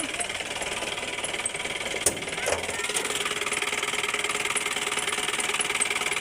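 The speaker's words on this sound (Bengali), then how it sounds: "এই যে এটি ইঞ্জিন ইঞ্জিনের সাউন্ডটা আপনারা বুঝতে পারতেছেন" A 2021 Mahindra Bolero pickup's diesel engine idles close by with a steady, even rumble and rattle, holding a constant level with a couple of brief knocks partway through.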